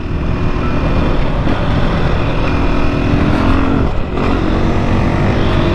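A 2021 KTM 500 EXC-F dirt bike running close up, its engine droning loud and steady with throttle surges and a brief dip near the end, heavy wind noise throughout and no talking.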